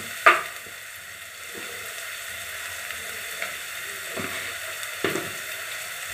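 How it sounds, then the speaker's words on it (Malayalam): Onions sauté in a pan with a low, steady hiss. A few soft knocks and scrapes come from stirring, with one sharper clatter at the start and no voices. "ഗോൾഡൻ ബ്രൗൺ കളർ ആവുന്നത് വരെ സവാള വഴറ്റി കൊടുക്കണം"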